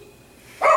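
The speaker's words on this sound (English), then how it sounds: "Oh, it's because the dog outside." A dog barks outside, a single loud burst cutting in abruptly at the very end after near quiet.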